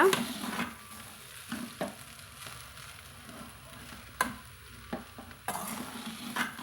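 Steady stirring and scraping of vegetable noodles in a sizzling frying pan, with a few louder clanks of a utensil against metal over the frying hiss.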